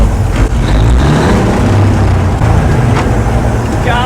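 A 1953 Peterbilt truck rumbling on the road, a loud, close, low engine drone with road noise during a downshift, and no clear speech over it.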